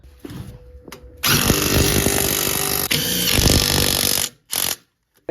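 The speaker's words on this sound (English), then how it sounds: "I like to grab my ratchet and just give it a good snug, make sure those bolts are all tight" Power tool snugging wheel bearing bolts on a 2004–2009 Toyota Prius during front wheel bearing replacement, a few short bursts at first, then a long loud whirring run with brief breaks, ending in two more short bursts.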